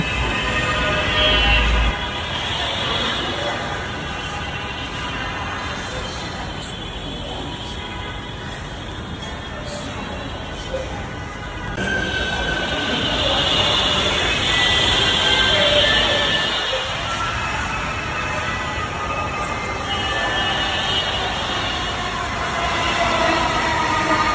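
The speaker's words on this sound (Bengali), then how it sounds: "তো অবশেষে ট্রেনটি চলে আসলো" A metro train rumbles and hisses as it pulls into Mirpur-11 station, a steady broadband roar with rising and falling intensity and faint wheel noise throughout, no voices.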